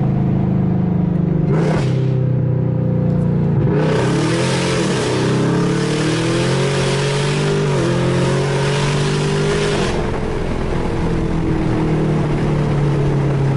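A Camaro ZL1 accelerates hard through its gears, its loud engine note climbing and dropping at each shift in a continuous, close, aggressive roar, with no talking.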